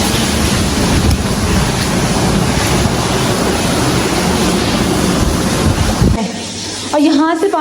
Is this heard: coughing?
no